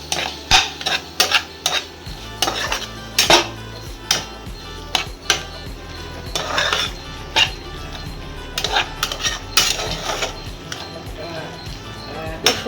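Potol, or pointed gourd, gets stirred in a metal pan, with repeated scraping and clinking strokes of a spatula in an uneven rhythm, close and fairly loud, while someone talks over it.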